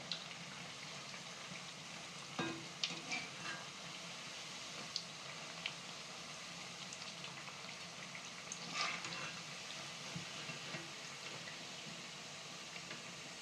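Fig vadai frying in hot oil with a steady, dense crackling sizzle and scattered pops, moderately close and continuous throughout, without speech.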